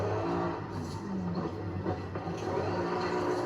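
A Lotus Carlton car engine in a drifting video game, a continuous loud engine drone with shifting, rough tone throughout and no voices.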